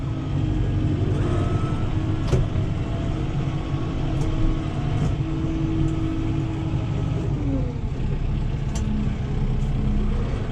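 A Kubota M7060 tractor engine running throttled up, a steady close diesel drone holding even for several seconds, with a few faint clanks over it and no voices.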